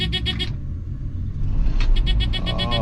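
A 9600 crank-turns for a moment, then its engine catches and settles into a loud, rough running rumble with mechanical ticking. Close up, with a brief voice in between.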